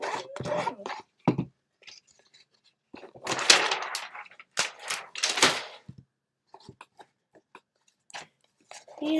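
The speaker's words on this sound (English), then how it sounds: "Flip it back over and give it a rub. Get all that glue distributed." A glued paper craft box, a bunny box cut from printed paper, is rubbed by hand to spread the glue, giving dry scuffing and rustling bursts in a quiet room with short gaps between strokes.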